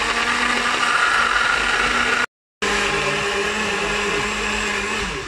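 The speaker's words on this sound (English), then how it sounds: "Let's plonk this in the blender." A blender whirs loudly as it blends lime with homemade 72% ABV white rum, a steady high motor whine broken by one brief cutoff before it runs on, no voices over it.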